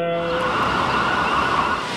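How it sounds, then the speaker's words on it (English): Citywide storm and tornado warning siren in Ann Arbor, a loud sustained wailing tone that holds steady and fills the whole clip with no talking. "operates the citywide storm tornado warning siren system."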